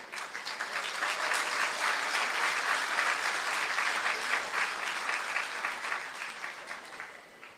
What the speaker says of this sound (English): A round of applause again for the first presentation